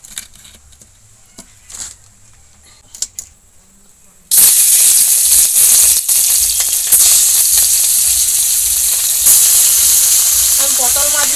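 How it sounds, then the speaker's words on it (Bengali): Potol fish fry in hot oil in a pan, starting after a quiet stretch of clinks and a few voices with a sudden loud, steady sizzle that carries on close and unbroken. "মাছগুলো প্রথমে ভেজে নেব।"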